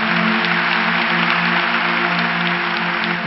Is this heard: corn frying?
no